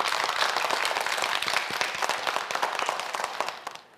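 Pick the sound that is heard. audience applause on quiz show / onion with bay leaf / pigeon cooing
audience applause on quiz show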